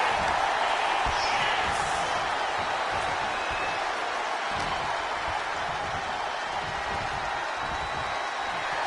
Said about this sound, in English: The WWE Universe is showing their appreciation for the action they're seeing.